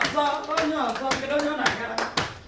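A group of young children at an Igbo summer camp claps in quick, uneven bursts, close and fairly loud, with a voice speaking and singing through it.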